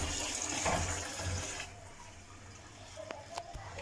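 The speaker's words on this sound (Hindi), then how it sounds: "पानी थोड़ा मैंने और डाल दिया है।" Water poured into a cooking pot of aloo mutton shorba, a broad splashing pour for about a second and a half that then trails off into a quiet kitchen with a few faint clinks.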